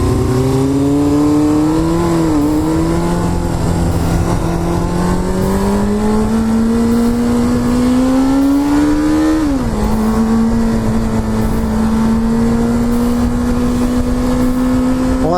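A car running on back roads with its engine droning loud and close throughout, pitch climbing steadily under acceleration, dropping sharply at a gear change, then rising again.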